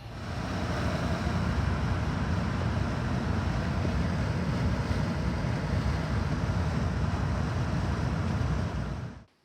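A Porsche 911 drives along, a dense, steady roar of road and engine noise with wind rumble heard from inside the car, continuous and loud before cutting off abruptly at the end.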